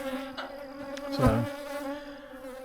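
Honey bees buzzing in a bee yard, a steady droning hum with insects passing close to the mic; someone briefly speaks over it.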